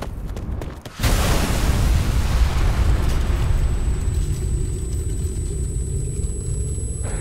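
A bomb explosion in Ghost Recon Future Soldier erupts suddenly after a quiet moment, a loud close blast that rolls into a long, deep rumble and slowly decays, with no speech over it.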